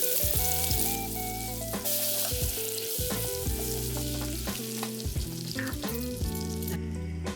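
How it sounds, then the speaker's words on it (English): Half a stick of butter melting and sizzling in a hot pan, a steady, even crackle under sustained tonal background music. "I'm going to go ahead and add half a stick of butter. And we're just going to let that melt."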